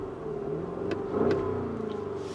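Porsche Cayenne Turbo GT with its V8 running and the sport exhaust switched off, a low, even engine rumble with a brief swell in the middle, close and steady with no voices.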